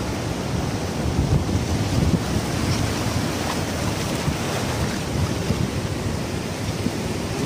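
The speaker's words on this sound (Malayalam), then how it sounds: "അപകടകരമായ രൂപത്തിലാണ് കടൽ ക്ഷോഭിച്ചുകൊണ്ടിരിക്കുന്നത്" Rough, stormy sea surging against the shore at Kavaratti island, a steady loud wash of surf mixed with wind buffeting the microphone, continuous with no distinct breaks and no voices.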